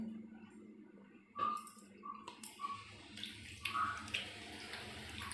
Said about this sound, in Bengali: এই যে হাত ধুইয়া একটু জল দিয়ে দিলাম